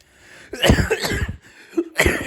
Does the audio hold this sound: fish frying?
no